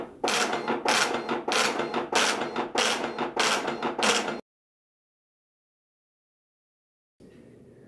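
A Romeo or Juliet braille embosser prints loud, rapid bursts of mechanical hammering in regular pulses of about half a second each, then stops abruptly into silence before a faint hum returns.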